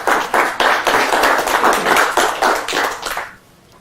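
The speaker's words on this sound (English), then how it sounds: "Another round of applause for him." A live crowd applauds a card trick with close, lively hand claps in a steady burst of about three seconds, which thins out and stops.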